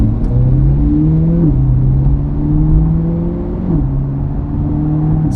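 A Chevrolet Corvette C8 with an AWE Tour exhaust idles nearby with a deep, steady burble, its pitch lifting slightly in a couple of light throttle blips.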